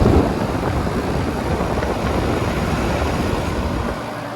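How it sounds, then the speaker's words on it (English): A 2.5-ton Trane XR11 air conditioner with a Copeland scroll compressor starting up outdoors, a loud broadband whooshing hum of fan and compressor that runs steadily and eases slightly toward the end. "So I figured the next day I'd get it starting up"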